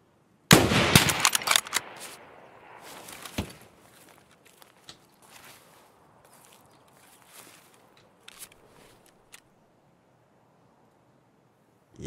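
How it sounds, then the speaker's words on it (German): A loud close cluster of gunshots in Escape From Tarkov opens the scene, followed by another sharp shot and then sparse clicks, shuffling footsteps and faint scattered noises in near silence. "Yes, noch einen Schuss ins Bein."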